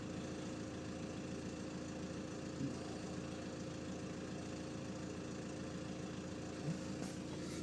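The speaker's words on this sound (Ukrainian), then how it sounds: "двигун працює ідеально рівно, без нюансів взагалі взагалі" A Volkswagen Touran's 2.0 TDI 150 hp diesel engine idles in a smooth, steady, even drone, heard close with no variation in pace and only a couple of faint ticks.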